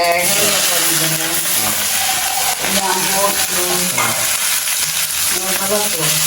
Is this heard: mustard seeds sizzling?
yes